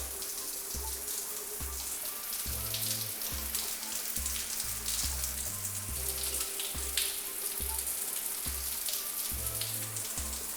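Water pours steadily from a large rain shower head indoors, a continuous dense splashing patter at constant level for the whole stretch, with no talking.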